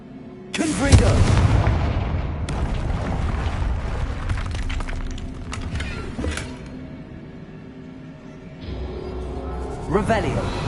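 Confringo fire-blast spell from Hogwarts Legacy erupting in a loud, sudden explosive boom, followed by a rumbling, crackling tail with scattered debris clatter and another burst near the end.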